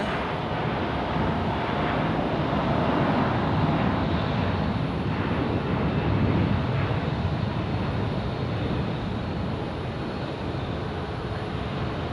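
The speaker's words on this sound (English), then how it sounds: "We just had Delta take off." A Delta jet airliner taking off, heard as a broad, fairly distant roar of engine noise that holds steady and swells slightly midway before easing, with no talk over it.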